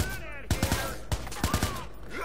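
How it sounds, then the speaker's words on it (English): Gunshots in the video game Watch Dogs, with clusters of three or four quick, punchy shots repeating in bursts, moderately loud over a background of game sound and faint voices. "He's shooting! Can you hear it?"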